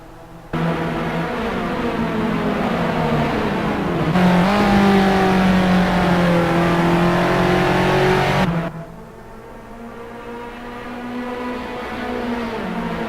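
Racing car engines roar in a sim racing game at Silverstone, round 9 race 2 of a 2014 South African series, with loud rising and falling revs as cars accelerate and pass, then cut to a quieter, lower-pitched engine drone.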